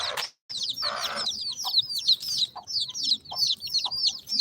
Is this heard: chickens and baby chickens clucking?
yes